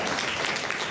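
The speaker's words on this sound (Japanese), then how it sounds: "みんなお嬢ちゃんに拍手だ。" Audience applause at a Tokyo DisneySea Turtle Talk show, a brief dense burst of many hands clapping together, steady and fairly full throughout.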